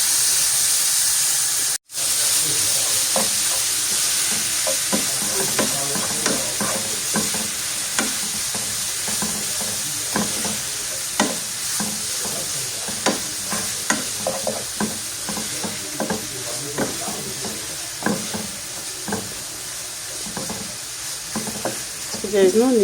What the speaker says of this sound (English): So we are going to start by adding our beef.